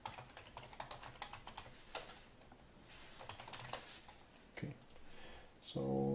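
Computer keyboard typing in quick irregular bursts of clicks, fairly close, with a short pause and a louder clatter near the end; no voices.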